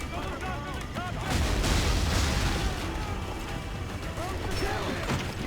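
Gunfire in the pirate-era game Assassin's Creed IV Black Flag, several sharp booming shots and bursts over a dense, noisy battle din, with shouting voices mixed in throughout.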